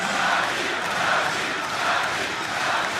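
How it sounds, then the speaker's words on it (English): A large esports arena crowd at the 2014 All-Star event roars and cheers continuously, a dense wash of many voices filling an indoor space with swelling waves of noise. "And you can hear the crowd."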